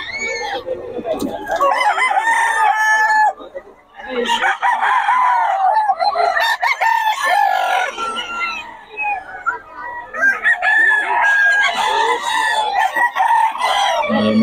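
A Lemon sweater gamefowl rooster crows loudly and close, with several long, strained calls in quick succession broken by short pauses and some clucking in between.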